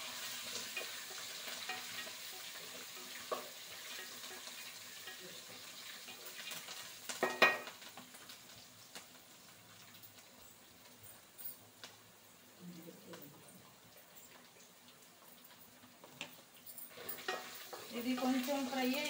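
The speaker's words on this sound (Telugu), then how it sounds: "నెక్స్ట్ వచ్చేసి కరివేపాకు అండి. నేను 3 రెమ్మలు తీసుకున్నాను. ఇది బాగా ఫ్రై చేద్దామండి." Curry leaves fry in hot oil for Bombay rava upma, giving a faint, steady sizzle with occasional stirring scrapes and clinks in a quiet kitchen.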